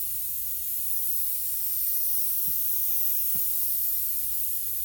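An airbrush hooked to an air line or propellant can sprays water and soap through in a steady, even hiss that holds for the whole stretch, with a couple of faint low clicks partway through.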